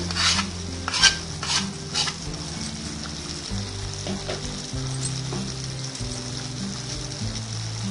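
Hyderabad-style chicken curry sizzles loudly in a pan while being stirred with salt and turmeric. Utensil scrapes and clinks against the pot repeat over a continuous frying hiss, with no voices.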